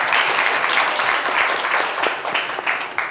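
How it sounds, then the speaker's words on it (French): Audience applause from a crowd at a French live show with a rapper guest, steady dense clapping throughout, fairly loud and close. "venez, on va l'applaudir"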